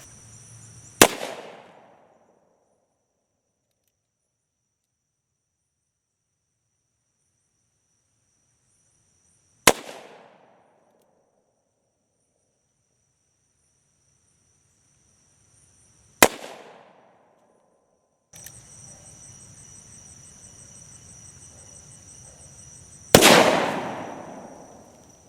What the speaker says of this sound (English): Let's see if we can take them out with the 45 long coat conversion.